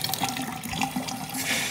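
Hot water runs steadily from a sink faucet into the basin, a continuous close splashing stream with no voices over it.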